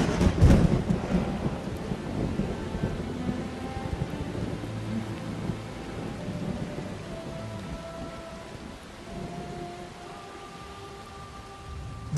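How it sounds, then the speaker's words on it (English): Rain and thunder arrive in the wild after eight dry months: a deep thunder rumble opens loudly, then fades into a steady wash of rainfall. "The first rain for 8 months."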